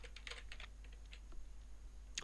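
Someone types on a computer keyboard, entering answers into a Times crossword: a quiet, irregular run of close keystroke clicks with short pauses between quick bursts, and no talking.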